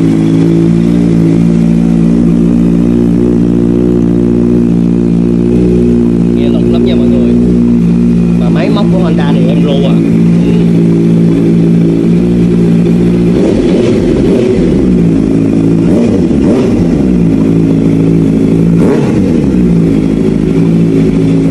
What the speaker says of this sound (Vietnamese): Em nổ máy mọi người nghe thử ha.